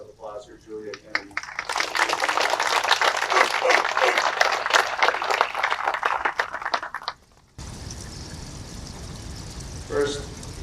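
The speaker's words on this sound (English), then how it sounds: "give another round of applause for Julia Kennedy" Applause for Julia Kennedy rises from an outdoor crowd at a September 11 ceremony at Cal Expo, a dense burst of many hands clapping for about five seconds before it cuts off into quieter ambience.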